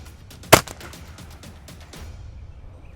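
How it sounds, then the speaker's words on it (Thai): A single sharp rifle shot cracks at the range during scope zeroing, loud and close, then decays into quiet outdoor background. "เดี๋ยวเราจะยิงเพื่อตั้งกล้องเลย"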